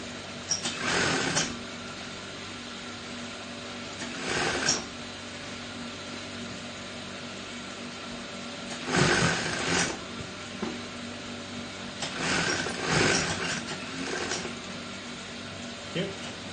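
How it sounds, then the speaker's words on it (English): Sewing machine stitching down the back yoke of a shirt in bursts of a second or so, separated by quieter stretches with faint handling noise, fairly close and moderately loud. "So at this point, you now want to sew the back yoke down."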